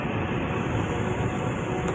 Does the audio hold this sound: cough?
no